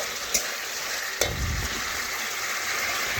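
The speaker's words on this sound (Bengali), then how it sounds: "এই চিকেনের জলেই আমি চিকেন দেখুন কষে নিচ্ছি" Chicken frying and being stirred in its own released juices: a soft, even sizzle with a couple of sharp spoon knocks against the pan.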